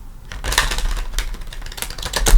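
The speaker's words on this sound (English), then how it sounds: "One more shuffle." Tarot cards being shuffled by hand, a rapid papery riffle of clustered flicks and snaps repeating close to the microphone over about two seconds, with no talking.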